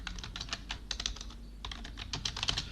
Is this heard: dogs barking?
no